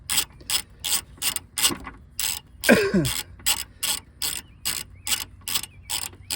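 A hand ratchet clicks in steady, evenly spaced bursts while tightening transmission mount bolts on a Chevy Cruze, the close, sharp pawl clicks repeating rhythmically with a brief throat clearing partway through.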